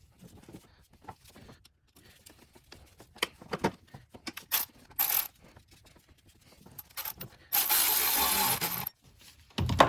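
Hands fit a clamp onto a coolant hose at the power steering reservoir of a BMW N54 engine: sharp metallic clicks and taps, scattered rustling, and one longer scraping rub, all close and with no talking.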